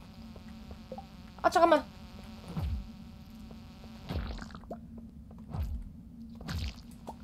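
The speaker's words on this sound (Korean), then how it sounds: "여름철에 모기처럼 소리도 진짜 역겨워. 웨잉거리는 게." A buzzing insect enemy in the Stardew Valley mines whines like a mosquito, with a loud close buzz near the start and fainter buzzes recurring throughout, under game music and a short spoken remark.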